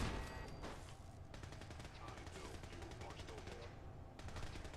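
Gunfire in Fallout 4 with the Sim Settlements 2 mod: rapid, continuous bursts of automatic shots, fairly loud and steady throughout, with someone talking over it.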